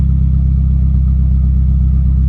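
A boosted budget Honda Civic fitted with a Y7 throttle body idles around 1,000 rpm, a steady, even low rumble close by with no talking.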